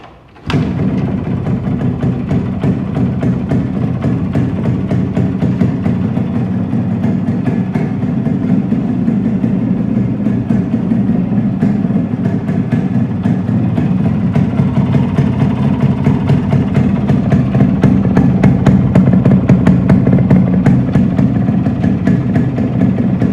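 A mid-pitched Yamaha RX 100 motorcycle engine starts with a sharp onset, then runs at a steady, close idle with a slight rise in revs toward the end.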